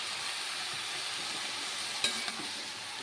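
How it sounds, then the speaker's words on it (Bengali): Spinach frying with fish head in a pan gives a steady, close sizzle, with a couple of brief scraping stir clicks near the end. "দেখুন বন্ধুরা এবার সুন্দর করে আবার নেড়ে চেড়ে"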